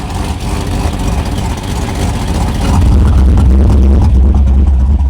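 A truck engine with a newly installed cam idles loud and close, a rough, lopey rumble that grows heavier and deeper partway through.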